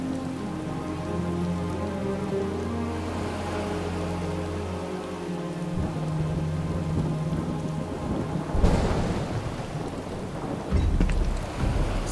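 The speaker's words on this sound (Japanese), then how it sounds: "すごい雨だな。" A heavy downpour hisses steadily in Final Fantasy VII Rebirth, with a loud thunderclap bursting in near the end and rumbling on, all beneath a soft sustained musical score and no voices.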